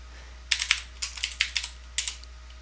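Quick bursts of keystrokes on a computer keyboard as a git command is typed, several clusters of close, crisp clicks with short pauses between, no talking.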